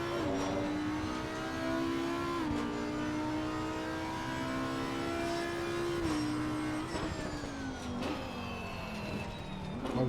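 An Audi R8 GT3 Evo II race car lapping the Nurburgring in a racing game, its engine wailing at high revs with stepped pitch shifts through the gears, sustained and prominent throughout.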